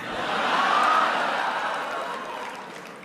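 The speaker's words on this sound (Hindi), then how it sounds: "तालियां तो अब बजने वाली है।" An audience at an Indian community reception in Berlin, Germany, produces a broad wash of applause and crowd noise that swells loudly and then slowly eases while staying sustained throughout.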